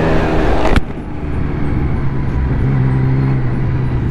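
A 2021 Yamaha MT-09 SP motorcycle pulls away on its first ride, with a sharp clunk, then a steady engine drone and rising road noise close to the rider.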